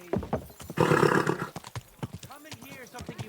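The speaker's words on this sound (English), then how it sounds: "Your horse nearly trampled me!" Horse in the Kingdom Come video game gives a loud whinny in the middle of the clip, with clip-clop hoof beats and voices talking before and after it.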